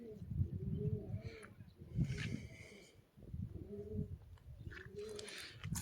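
Pigeons coo softly in repeated low, throaty phrases, a few close by, with faint background chatter and rustling.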